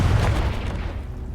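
A Confringo fire spell blast in the video game Hogwarts Legacy: a single loud, muffled boom that fades into a rumbling tail.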